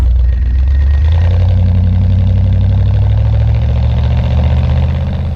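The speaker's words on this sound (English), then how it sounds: "You hear the exhaust" A 1977 Corvette C3 V8 rumbles steadily through a C4-style exhaust, a loud, close, deep idle with a low throbbing pulse that holds evenly throughout, with no talk.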